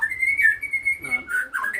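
A white-rumped shama gives a short run of clear, high whistled notes, close and fairly loud, with no voices.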